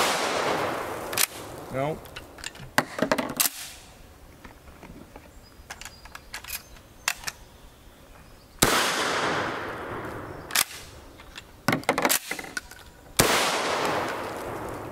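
A 12 gauge Model 11 shotgun fires 2.25-inch NobelSport 00 buckshot mini shells, each blast sharp and loud with a decaying tail, several shots spread irregularly across the stretch with brief mechanical clatter between them.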